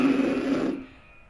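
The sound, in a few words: bad horn mouthpiece buzz with corners not firm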